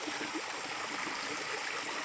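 Spring water flowing steadily at a farm resort, a continuous close trickling and bubbling with small splashy gurgles and no break.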